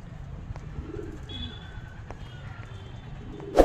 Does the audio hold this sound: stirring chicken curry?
no